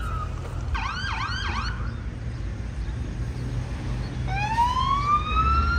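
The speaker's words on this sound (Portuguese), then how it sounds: "Só barulho de ambulância e polícia." Wailing police and ambulance sirens pass by after an explosion at a cooperative in Palotina, Brazil, first a rapid warbling yelp, then a rising long wail, over steady traffic rumble in the street.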